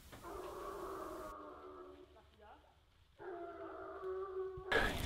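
Hunting hounds baying during a stick hunt, drawn-out mournful howls rising together in two long bouts with a brief gap between them.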